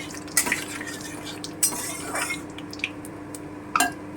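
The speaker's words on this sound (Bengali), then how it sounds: "এবারে আমি গোটা জিরেটা দিয়ে দিচ্ছি একটু নেড়ে নিলাম" Whole cumin seeds stirred in a pan, with soft scraping and intermittent metallic clinks of a spoon against the pan over a faint low sizzle, close and fairly quiet.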